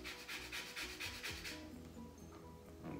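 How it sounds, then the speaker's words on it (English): A whole lemon is rubbed round against a zester or grater, giving a close, steady rasping scrape in short repeated strokes, with no talking. "just go all the way around the lemon. That's how much zest you would probably need"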